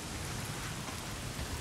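Steady, dense rainfall in the video game Days Gone, a continuous hiss of drops pattering on surfaces, loud and even throughout with no voices.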